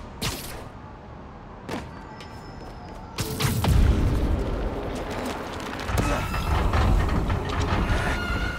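A train rumbles past in the Spider-Man Miles Morales video game, a loud, broad roar that swells midway and keeps rolling, mixed with sharp booming hits.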